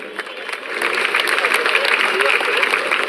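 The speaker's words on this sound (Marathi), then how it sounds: "जोरदार टाळ्या होऊ द्या" Audience applause for a prize winner of a healthy baby contest at the Parle Festival in Mumbai, a dense, steady clatter of many hands that swells after the first second and holds loud to the end.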